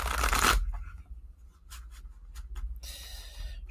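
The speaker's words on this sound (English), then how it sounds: "Let's do a shuffle." A quick burst of card riffling at the start, followed by a few soft taps and another stretch of crisp paper rustling near the end.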